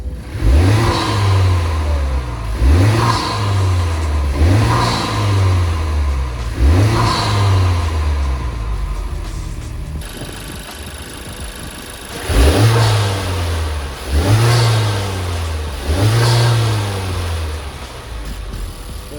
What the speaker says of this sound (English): we're gonna get how the car sounds right now